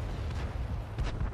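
Artillery fire in the World of Tanks video game, a couple of heavy low booms with sharp bursts near the start and again about a second later, loud and close over a rumbling background.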